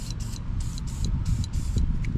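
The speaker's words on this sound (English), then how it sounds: "since we'll be coming back tomorrow to change this trim motor, I'm going to pre-spray everything today." Penetrating spray from an aerosol can being applied around the trim motor of a small outboard, in several short hissing bursts close by with no voices.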